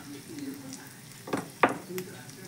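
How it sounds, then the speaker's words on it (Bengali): A green pea filling for kochuri dries out in a wok over a soft sizzle, with two sharp scrapes of a spatula stirring it, and a voice talking faintly beneath. "এবার এটা খুব ভালো করে ভেজে নিতে হবে। কড়াইশুঁটির পুরটা এইভাবে নেড়ে নেড়ে শুকোতে হবে ভালো করে।"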